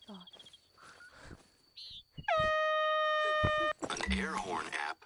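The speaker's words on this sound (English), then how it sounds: "An air horn app." In the Hunter: Call of the Wild video game, an air horn app lets out a loud, sustained, piercing multi-tone blast lasting over a second, framed by voices talking before and after.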